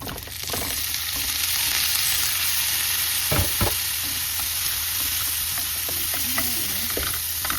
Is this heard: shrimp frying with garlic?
yes